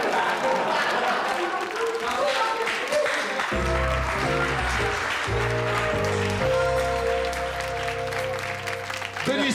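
Audience applause fills a French TV hidden-camera show set, a dense, continuous wash of clapping that runs the whole time while music chords enter partway through.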